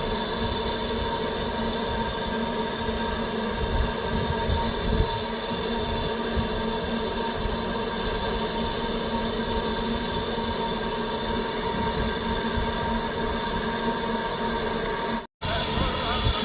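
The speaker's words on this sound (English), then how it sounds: "Now this is going to be the first train out of Kidderminster, which is the 9:30 to Bridgnorth." A BR Standard Class 4 steam locomotive hauls a heritage train out of Kidderminster on the Severn Valley Railway, a steady, continuous rumble of running train and wheels, loud and close, with a brief dropout near the end.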